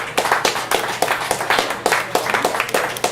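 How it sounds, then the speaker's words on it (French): Audience applause at a live solo performance evening, a dense patter of many hands clapping steadily and close, with no talk over it. "Faut applaudir, c'est bon pour les mains."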